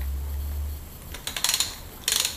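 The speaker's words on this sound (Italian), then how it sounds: "avvitare il pedale" A pedal being threaded onto the crank of a Bosch Performance e-bike motor, heard as a low hum fading into a few quick, close ratcheting clicks in two short bursts.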